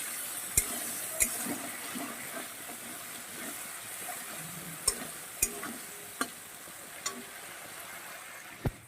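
A pan of cabbage is sautéed with salt and turmeric. A faint, steady hiss runs underneath sharp, irregular taps of a spatula against the pan, about eight in all.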